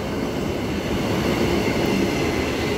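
An electric multiple unit train runs at a station in one steady, loud, continuous rumble of wheels and motors with no clear gaps, and nobody speaks.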